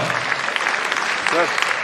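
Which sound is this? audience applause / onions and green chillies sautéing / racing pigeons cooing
audience applause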